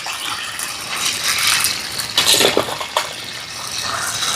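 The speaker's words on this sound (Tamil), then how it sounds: "நண்டுக்கு எண்ணெய் கொதிச்சுட்டு நண்டை போடுவோம்" Crabs go into hot, bubbling oil for a crab fry, setting off a loud, dense crackling sizzle with sharp spitting bursts close by, and no voices.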